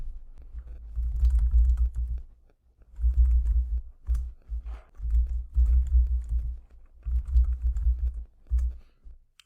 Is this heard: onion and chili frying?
no